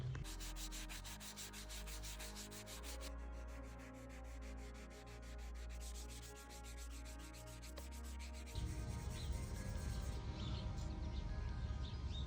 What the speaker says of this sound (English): Everything's sanded down,